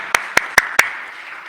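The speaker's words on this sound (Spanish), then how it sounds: "Un aplauso para el Señor" Four sharp, evenly spaced hand claps ring out in a church service, loud and close, fading into quiet room tone after the last one.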